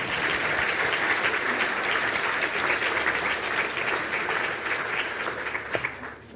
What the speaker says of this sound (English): we can give Cian a deserved round of applause